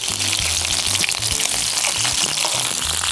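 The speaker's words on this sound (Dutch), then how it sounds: "Laat ik ze nog heel even bakken" Cod fillets fry in a pan with a loud, steady sizzle and spitting crackle that runs throughout, while a soft music bed plays underneath.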